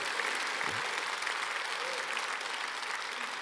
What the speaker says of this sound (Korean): 격려 차원에서라도 박수를 치시든지